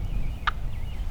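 Wild turkey gobbling during a cold Minnesota spring hunt, one short loud rattling gobble that rises over quiet wind rumble, followed by the start of a second call.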